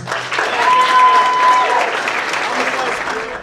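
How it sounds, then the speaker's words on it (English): A wedding reception room full of people claps steadily for the bride and groom, a dense wash of applause at moderate volume with a few voices mixed in. "let's give him a round of applause"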